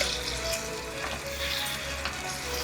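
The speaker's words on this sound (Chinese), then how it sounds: "现在可以把臭豆放下去一起炒。" Stink beans (petai) stir-fried in sambal in a pan, giving a steady, dense sizzle with faint scraping throughout, close and continuous with no voices.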